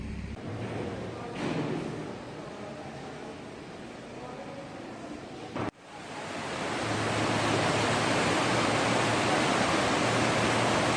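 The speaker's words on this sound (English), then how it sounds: "now it's all cloudy and rainy" Rain falls steadily outdoors on a cloudy day as a broad, continuous hiss that grows louder and fuller after a short break midway.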